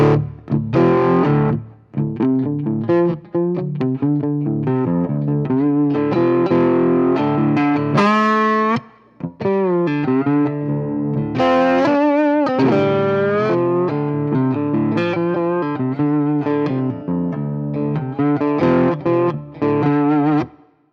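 An electric guitar rings through a Tungsten amp with mild overdrive, strummed chords and melodic lines sustaining with a slightly gritty edge and some reverb.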